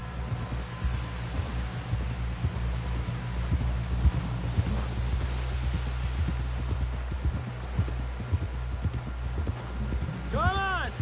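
Steady clip-clop of horse hooves at a walking pace in the video game Red Dead Redemption 2, with a low rumbling ambience and a voice talking over it.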